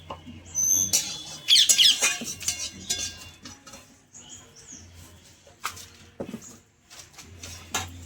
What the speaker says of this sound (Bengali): এবার আমি কড়াইটা একটু ধুয়ে নেব,